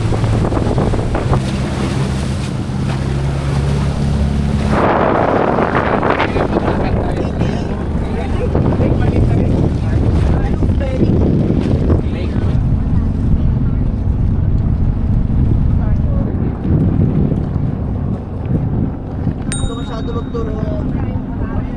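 A boat crosses big waves on the open sea off Oriental Mindoro, with loud wind buffeting the microphone, a constant engine and water roar, and splashes and surges as the hull hits the swells.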